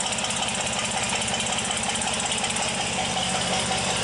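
The engine of a 1964 GMC runs on a new Holley carburetor, idling a little fast with a steady, loud, rough mechanical rumble and rhythmic knocking throughout.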